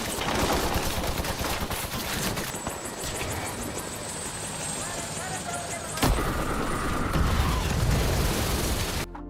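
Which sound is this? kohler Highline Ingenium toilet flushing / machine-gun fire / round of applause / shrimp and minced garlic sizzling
machine-gun fire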